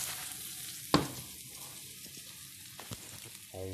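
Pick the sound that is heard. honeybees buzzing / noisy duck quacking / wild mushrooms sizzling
wild mushrooms sizzling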